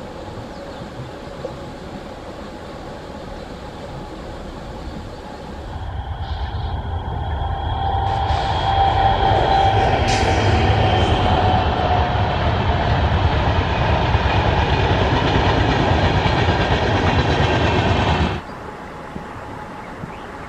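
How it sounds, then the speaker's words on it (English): Express trains pass a station platform, a loud rushing rumble and rail clatter that swells in, holds steady for about twelve seconds and cuts off abruptly, with no voices. "We saw 2 trains, Maldivar Express and Hodeyar Express."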